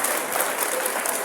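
Wedding guests at a bride-price and proposal ceremony break into dense, steady applause, loud and close, filling the whole moment without pause.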